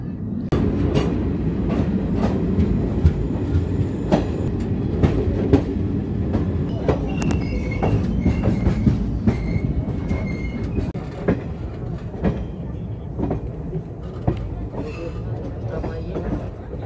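The Tirhut Express, an Indian passenger train, rolls along the rails with continuous loud rumble, rhythmic clickety-clack of wheels over joints and occasional squeals, heard from on board while someone speaks throughout.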